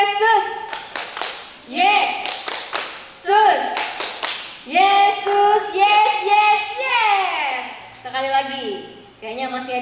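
Children in a Sunday school service clap a rhythmic 'Tepuk Yesus' chant, sharp hand claps falling in quick patterned bursts amid loud, excited group chanting and adult speech.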